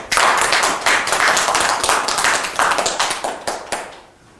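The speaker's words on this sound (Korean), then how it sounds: "먼저 큰 박수로 정환재 교수님을 모시겠습니다" Loud applause from a forum audience welcoming a speaker, a burst of many hands clapping that holds steady for a few seconds and then tapers off.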